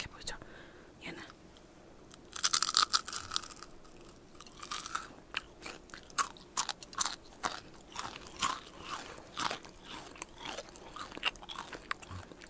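Crispy fried KFC chicken skin crunches close to the mic in a quiet eating session. The bites come as a string of sharp, brittle crunches and chewing sounds, with no talking.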